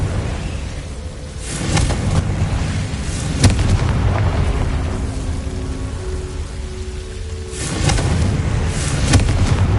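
Blasting Confringo spell explosions in the Hogwarts Legacy video game, heavy rumbling booms in two loud bursts separated by a crackling, rain-like wash of debris, with no talking.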